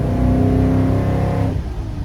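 A Chevrolet with an LS1 V8 pulls hard under acceleration, its loud, steady engine roar climbing for about a second and a half before easing off into a lower rumble.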